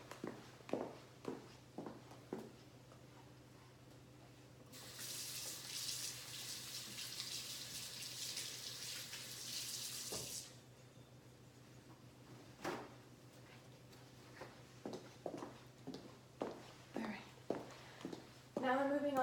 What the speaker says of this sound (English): I'm going to be washing my hands now.